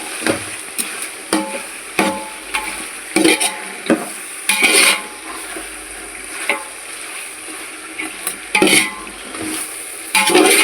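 Chicken cooking in a thick masala for chicken biryani, with a steady sizzle and repeated scraping stirs of a spoon against the pot, close and clear, with no talking.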